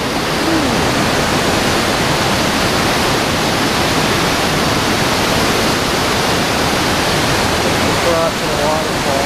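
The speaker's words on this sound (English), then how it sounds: "Crossing a waterfall." Loud, unbroken rushing of a waterfall crossed on a moderately difficult hiking trail to Shelokum Lake at Bailey Bay, with the constant roar filling the scene and no other sound.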